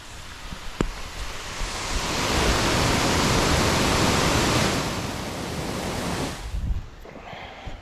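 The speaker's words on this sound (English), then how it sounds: "the sound of water running is so soothing." Water spraying from newly installed irrigation sprinklers, a broad steady hiss that swells in the middle and then fades, ending with a few faint knocks.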